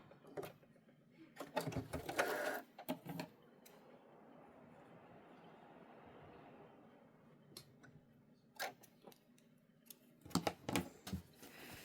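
Sewing machine running a straight back stitch along the hem of stretchy athletic pants, with bursts of rapid mechanical ticking at the start and end and a quieter stretch between.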